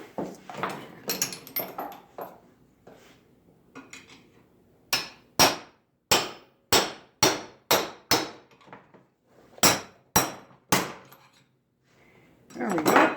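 A hammer strikes a steel punch held against a chain link clamped in a vise, a run of a dozen sharp metallic clangs in a steady rhythm, close and loud, preceded by softer clinks and handling.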